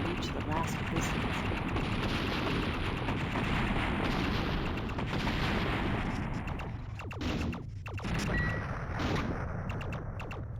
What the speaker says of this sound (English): Oh, stop shooting me.